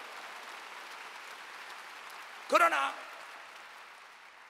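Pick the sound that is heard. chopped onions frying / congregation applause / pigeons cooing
congregation applause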